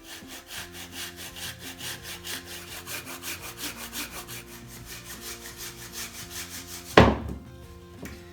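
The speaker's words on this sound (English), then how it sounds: "The best tool for the job is a pruning saw, and you can use this to take around 1 inch off the base of the tree." A pruning saw cuts through the base of a Christmas tree trunk in a steady, quiet back-and-forth rhythm of rasping strokes, ending in a sudden louder crack or thud.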